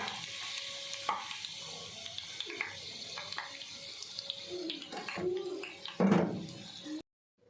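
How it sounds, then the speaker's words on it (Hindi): Fried chicken cheese lollipops crackle and sizzle softly in hot oil as they are lifted out, with scattered clicks of utensils and a louder rustling splash near the end before sudden silence. "चिकन लॉलीपॉप्स फ्राई हो चुके हैं, अब हम इनको निकाल लेंगे"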